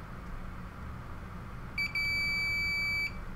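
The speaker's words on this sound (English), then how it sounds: "So now I'm gonna touch just this one, this end to this end. You can hear the beep again. It's got continuity." A multimeter in continuity mode gives one steady, high electronic beep lasting about a second, sounding alone over faint background hiss after its probes touch both ends of a conductor.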